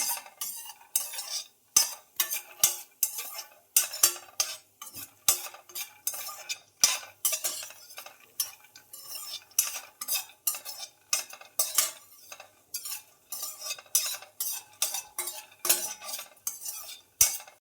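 Dry makhana (fox nuts) are stirred while roasting in a pan, giving a fast, irregular run of close scraping and rattling clicks as a spoon pushes the light nuts around, with no voices.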